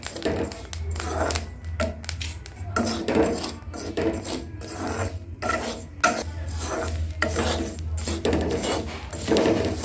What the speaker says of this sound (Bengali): দেখো কিরম ফুটছে মুড়ি